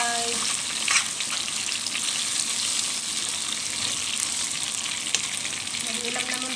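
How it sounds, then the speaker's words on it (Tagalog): Chicken pieces fry in a pan with a continuous close, crackling sizzle, broken by a few light clinks and stirring sounds. "Chicken fried."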